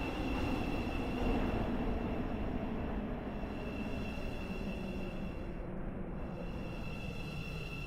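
Steady rumble of a Class 717 train rolling along in a Roblox railway game, with a constant low roar and a faint high whine throughout, no pauses.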